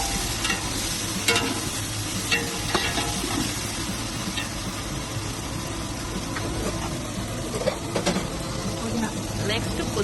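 Ginger-garlic paste fries in a pan with a continuous close sizzle and intermittent stirring scrapes, with occasional voices in the background.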